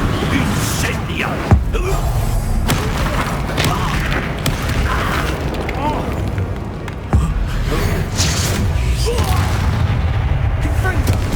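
Incendio fire spells are cast in the Hogwarts Legacy video game: a dense, loud battle roar with a couple of sharp booming blasts, mixed under shouted speech.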